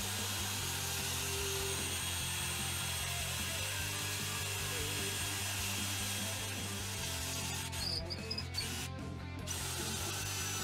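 A 6 mm bit bores into the wooden body of a guitar, linking two humbucker cavities; a steady, close drilling whine runs continuously, with grinding and rubbing texture and a brief lull near the end.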